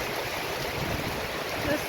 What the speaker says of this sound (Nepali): बाढी आयो है, बाढी आयो साथीहरू।